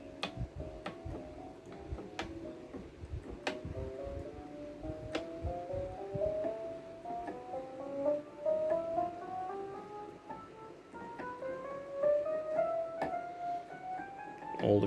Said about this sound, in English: Let's go simple sound like this on electric piano.